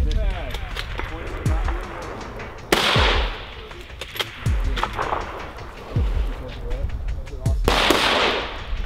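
Rifle shots ringing off steel targets at an outdoor precision rifle match, sharp reports and impacts recurring every second or two amid wind and people talking nearby.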